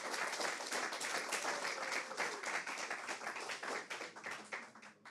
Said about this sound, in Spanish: Me gustaría que le diéramos un nuevo aplauso a Ismael